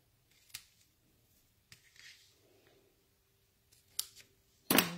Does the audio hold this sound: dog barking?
no